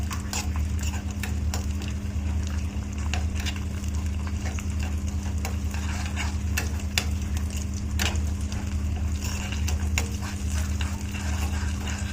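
Ingredients for moong dal payasam roast in a pan until golden, a continuous low sizzle over a steady hum, with frequent light scraping and tapping as they are stirred.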